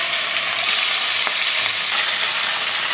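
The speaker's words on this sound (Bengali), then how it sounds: "তেলটা গরম হয়ে গেলে ওর মধ্যে একে একে নুন আর হলুদ দিয়ে মাখানো মাছগুলোকে ছেড়ে দেবো" Rohu fish pieces coated in salt and turmeric frying in hot mustard oil in a kadai, a loud, steady, close hiss and crackle that runs unbroken with no talking.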